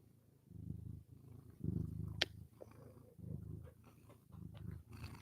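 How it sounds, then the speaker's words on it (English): A cat purring close up in a quiet room, a soft low rumbling in steady rhythmic cycles, faint and continuous with no talking. "An angel full of so many purrs."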